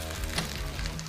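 Croissants frying in a hot pan for a French toast, steady low sizzle and crackle running throughout the short moment, close and fairly quiet with no talking.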